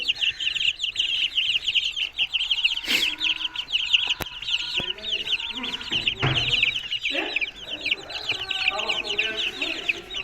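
Dense chorus of broiler chicks peeping continuously with adult chickens clucking nearby, a few louder clucks and bumps breaking through the steady flock noise.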